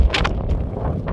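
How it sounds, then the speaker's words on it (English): Strong wind on a mountain pass trail buffets the microphone with a loud, close, continuous low rumble and no letup. "Very windy today."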